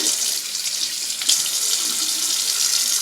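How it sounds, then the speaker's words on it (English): Tap water runs steadily while bentonite clay is rinsed out of hair, a constant bright splashing hiss with no pauses. "And now I'm just going to rinse it off."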